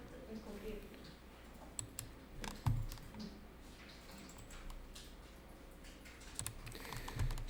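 Computer keyboard keys get pressed in an office accounting program, scattered light clicks and taps, with a few sharper key strikes standing out over faint room noise and talk.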